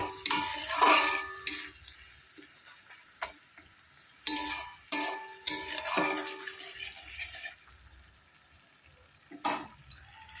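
Fish curry masala for doi katla being stirred and sautéed in a pan after a splash of water is added. Loud, repeated scraping strokes of a spatula come in uneven bursts over a soft sizzle, and no one speaks.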